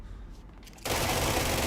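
Gunfire from the Spin service weapon with a rate-of-fire boost in Control: a dense, continuous stream of rapid shots that bursts in abruptly and holds loud after a quiet start.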